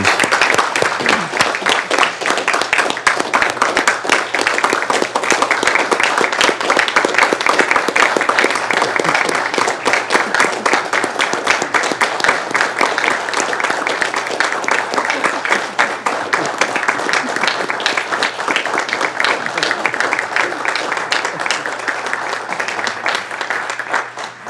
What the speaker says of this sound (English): And another round of applause for Larry, Randy Ward, please.